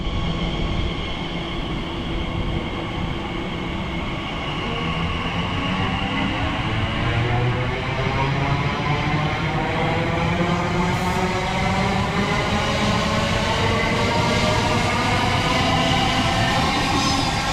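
Class 345 electric train 345004 on a TfL Rail service to Heathrow Central pulls away, a loud, close, continuous rising whine of traction motors and rumbling wheels that builds steadily, with no voices.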